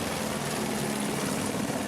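A police helicopter flies over an operation on Avenida Brasil, its rotor and engine giving a loud, steady, broadband whir that fills the whole clip with no talk.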